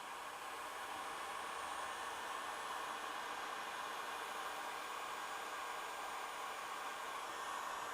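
A Harbor Freight Hercules heat gun runs steadily with its fan and heating element on, giving a constant, even airy roar that holds at the same level for the whole stretch without any pauses.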